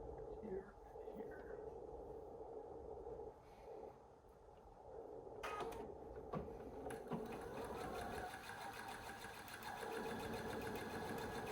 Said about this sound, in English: Sew across here and then across like so.